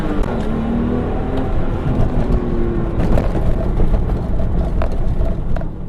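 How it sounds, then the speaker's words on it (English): A manual Porsche 911 launching hard from a stoplight in San Francisco, a loud, close engine roar climbing through the revs with a brief dip near the middle, likely a gear change. "Do another little launch here at this stoplight."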